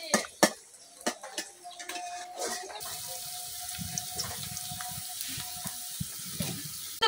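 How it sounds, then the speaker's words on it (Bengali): Light rain falls outdoors during village cooking of masoor dal with papaya, a steady soft hiss that settles in after a few scattered knocks and taps, continuing evenly without talk. "আর এখন কিন্তু এই যে একটু বৃষ্টি পড়তেছে"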